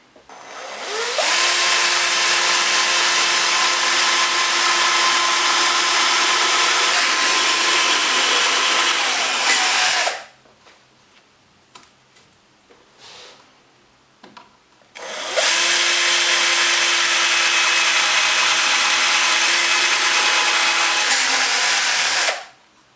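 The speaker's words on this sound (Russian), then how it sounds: "И сейчас сделаем сверловку." Power drill boring holes for a furniture handle in a cabinet front, two long loud whining runs at steady speed separated by a quiet pause with faint handling clicks.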